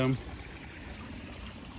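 Farm field runoff rushes along a channel cut through to drain excess water, swollen almost like a small river and close to bursting its banks, giving a steady, close broadband flowing hiss with a brief voice at the start.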